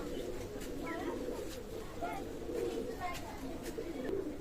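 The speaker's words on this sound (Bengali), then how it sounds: "গোল্ডেন কবুতর।" A golden pigeon coos close by in short, soft, repeated rolling calls spaced about half a second apart over a low background hum.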